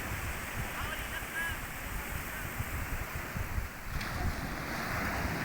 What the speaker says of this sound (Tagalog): Ganyan lang yung alon ngayon guys.